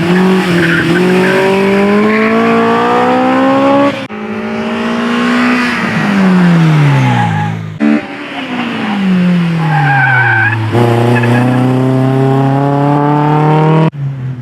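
Yellow Honda S2000 race car at a night session of a time attack championship, engine screaming loud and close through repeated up and down revs with gear changes and tire squeal.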